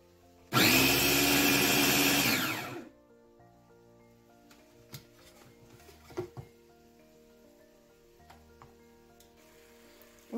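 A kitchen blender grinds onion, garlic, green chili and ginger with a little water, roaring loudly for about two seconds before stopping, followed by quiet clicks and knocks.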